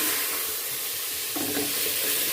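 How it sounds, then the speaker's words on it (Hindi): Cardamom, cloves and cumin being stirred into a hot pot for desi chicken soup, a steady sizzle and frying hiss with scraping stir strokes, close and continuous, louder sizzling bursts toward the end. "अब इसमें हम ये डाल लेंगे इलायची, लौंग, जीरा और इसको भी हम अच्छे से मिक्स कर लेंगे।"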